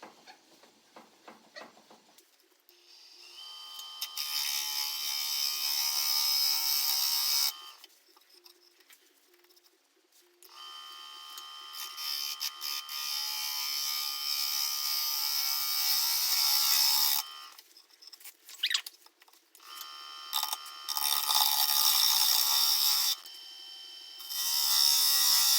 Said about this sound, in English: I'm cutting basically against the grain where the gouge is lifting up the fibers